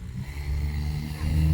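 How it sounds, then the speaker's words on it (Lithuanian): A motor scooter ridden along a road in Vang Vieng, Laos, droning steadily at close range with a low engine hum that swells louder toward the end as it pulls out to overtake. "su motoroleriu aš viską aplenkiu"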